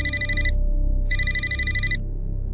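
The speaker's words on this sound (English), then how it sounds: "That's when my phone rang again." A telephone rings in two loud, trilling electronic bursts separated by a short gap, alone with no voices, over a steady low hum.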